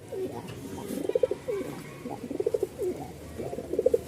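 A male Rajshahi Giribaz pigeon coos in repeated rolling bursts with short gaps, close and clear over faint background noise.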